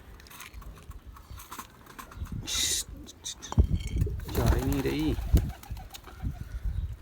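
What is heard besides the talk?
pigeons cooing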